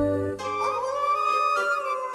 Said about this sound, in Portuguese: Porque ouço aquele uivo.